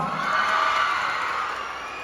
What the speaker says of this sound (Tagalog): Yung palakpakan na may dalang hiyawan na may talon!